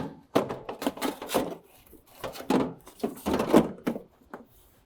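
Metal parts are fitted into a Tesla Cybertruck door during a teardown, making a string of close, sharp thunks and clunks in irregular bursts with short pauses between them.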